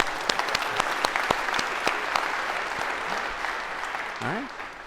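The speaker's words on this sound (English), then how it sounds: "Maybe a round of applause, because this is always awkward." Audience applause in a university lecture hall, many hands clapping at moderate distance in a steady patter for several seconds, fading slightly near the end as a voice begins to speak.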